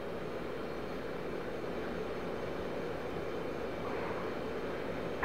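Steady, loud jet roar of an F/A-18C Hornet on afterburners in the DCS flight simulator, a broad continuous rumble holding evenly throughout with no talk.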